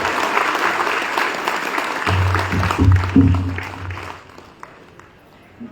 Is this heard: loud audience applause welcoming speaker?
yes